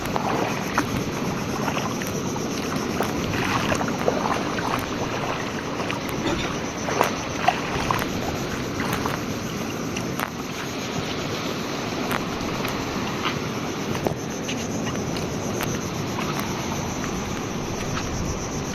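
Steady wind rushes over open sea at night during octopus hunting, a constant broadband roar with occasional faint knocks and splashes.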